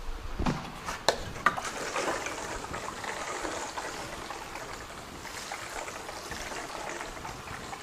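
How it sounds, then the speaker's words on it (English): Water trickles and pours steadily over microgreen trays during top watering, a soft continuous flow after a few brief knocks at the start. "We'll give these a nice top watering."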